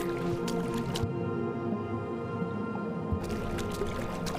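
Footsteps walking on water in Flight Simulator, repeated wet squishing splashes over a steady watery background, with a brief quieter stretch in the middle.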